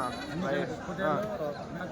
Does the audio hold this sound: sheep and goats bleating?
yes